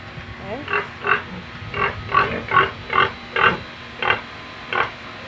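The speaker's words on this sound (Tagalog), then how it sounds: "Waiting na po ang mga baboy para kumain pero hindi pa time para sila ay kumain." Farm pigs waiting to be fed grunt and squeal in a pen, about ten short, loud, evenly spaced calls close by over a low background hum.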